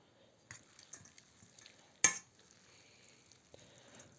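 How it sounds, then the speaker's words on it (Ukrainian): Funchoza noodles with mussels and vegetables get stirred in a pan, with soft scrapes and taps and one sharper clack of the utensil over a faint, quiet sizzle. "І все ретельно розмішуємо"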